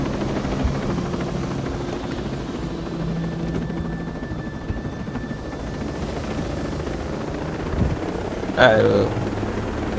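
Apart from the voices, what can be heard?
helicopter in video game Tom Clancy's Ghost Recon Breakpoint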